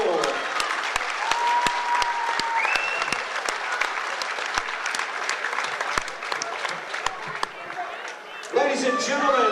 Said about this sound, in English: big round of applause to both fighters for an absolute war